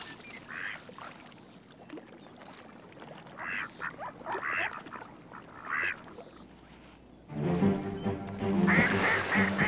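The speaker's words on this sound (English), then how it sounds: "We who quack and swim away will live to quack another day." Ducks on a marsh quack in short bursts of several calls separated by pauses, growing louder and denser into a noisy flurry of quacking and splashing at the end.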